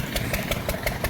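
An irrigation pump engine runs in a field, with a steady, rhythmic chugging of evenly spaced beats at moderate loudness.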